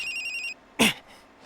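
A mobile phone in an episode of the Death Note anime rings with a rapid, trilling electronic ringtone for about half a second, then stops; after a short pause, a brief spoken word follows.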